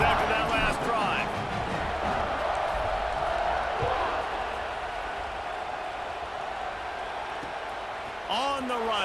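A stadium crowd roars and cheers during a kickoff in the EA Sports College Football 26 video game, a steady, dense wash of noise that fills the background under a commentator's voice.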